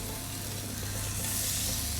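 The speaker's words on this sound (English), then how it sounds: "Nice little bit of sizzle there." Seafood sizzles steadily in an oiled pan, a constant soft hiss of frying that holds evenly for the whole moment with no talk.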